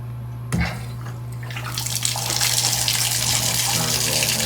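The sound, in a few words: hotel shower running water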